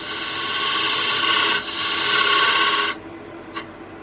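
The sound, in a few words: skew chisel point cutting a dovetail in pewter on a lathe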